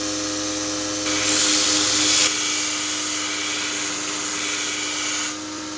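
A stationary grinder works a W-2 steel knife blade, with a steady motor hum and a brighter grinding hiss swelling for a second or so as the blade is pressed against it, then easing off.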